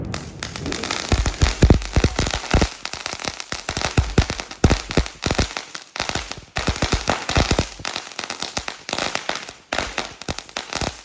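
Firecrackers bursting in rapid strings of sharp cracks and pops, loud and close, with crackling runs and brief pauses over an 11-second stretch, no talk.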